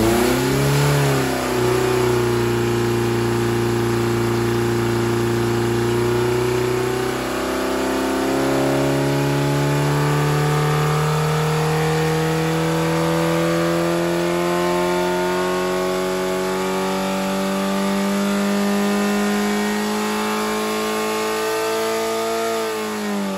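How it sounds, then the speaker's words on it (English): A Ford Pinto engine on a dyno revs continuously, its loud mechanical tone rising steadily in pitch through the gears with brief dips, running alone without any voices. "Cue dyno run."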